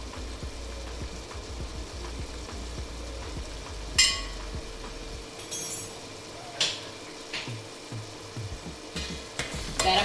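Garam masala fries in oil in a pan for egg biryani, a low steady sizzle broken by several sharp spoon scrapes and clinks as it is stirred.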